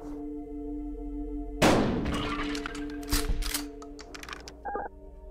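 A single shotgun blast in Buckshot Roulette cracks out loud and close, ringing briefly before a few mechanical clunks and thuds follow, all over a low, steady humming drone.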